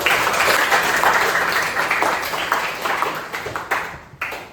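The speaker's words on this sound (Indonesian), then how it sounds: "Tepuk tangan buat kalian." A room full of people claps steadily, the applause gradually thinning out and ending in a few scattered claps.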